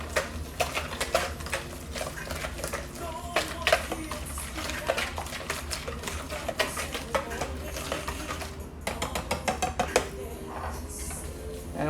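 Marinade sauce being mixed in a bowl for a ribeye steak: a rapid series of clinks, taps and scrapes of a utensil against the bowl, close and fairly quiet, in irregular bursts.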